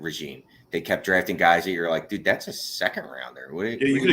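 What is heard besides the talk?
None of the usual background noises is heard.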